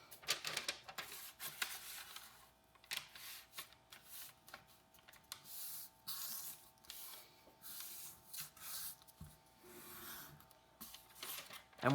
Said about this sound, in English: with my color side up, I'm going to fold edge to edge, folding in half.